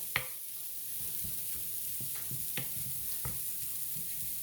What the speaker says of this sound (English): Let me give this a good stir here.